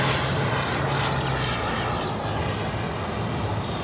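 An RC electric ducted-fan jet, a Black Horse Viper XL running a 100mm WeMoTec Midi EVO fan on a 14s battery, flies past with a steady, fairly distant rushing whine and a faint high tone, with no voices.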